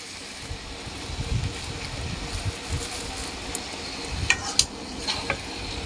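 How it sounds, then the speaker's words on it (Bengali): Chicken sizzles in oil with spices in a pan for a spiced chicken curry, a low, moderate frying crackle with occasional stirring scrapes and small utensil clinks. "ভালো করে তেলের মধ্যে মাংসটা ভাজা ভাজা হয়ে আসলে"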